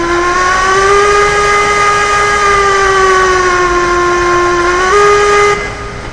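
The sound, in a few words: steam whistle of the Class 48 locomotive in the video game Railroads Online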